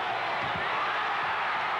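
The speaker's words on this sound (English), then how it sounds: "The Roosevelt crowd has gone wild." Crowd noise from a packed gym as Des Moines Roosevelt wins the 1978 Iowa 3A state basketball championship, a steady broad roar of cheering and yelling, loud and continuous throughout.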